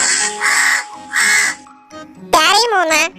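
A cartoon crow caws in a wavering, nasal call that a voice performs, following a few bursts of animated speech-like sounds.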